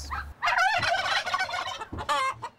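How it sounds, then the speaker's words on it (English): Turkeys on an organic farm gobble loudly and close, two rattling bursts with a short pause between them and no talk over them. "Turkeys,"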